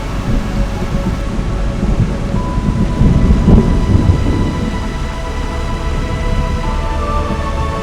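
Distant thunder rolls through steady heavy rain during a tropical storm at sea in the Bahamas, a low continuous rumble that swells in the middle and eases off, with no voices.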